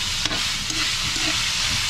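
Adobo sizzling in a pan, a close, steady, full frying hiss with faint clicks of stirring running throughout.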